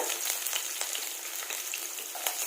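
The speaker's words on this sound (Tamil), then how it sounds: "இந்த மாதிரி நீட்டமாக கட் பண்ண ஆனியன் ஆட் பண்ணிக்கோங்க." Sliced onions hit hot oil with browned garlic, giving a steady close sizzle with faint spatters and small stirring clicks throughout, no voices.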